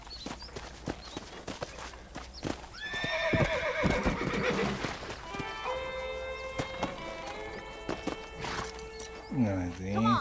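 Horse whinnies and clip-clopping hooves in Red Dead Redemption Remastered, with repeated neighing calls over steady hoof impacts and thumps, mixed with voices and other game sounds.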